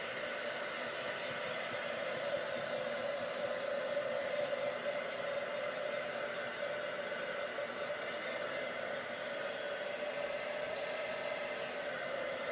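A hair dryer blows continuously over a watercolour background on a card page, a loud, steady whooshing hum that holds at one level from start to finish with no talking.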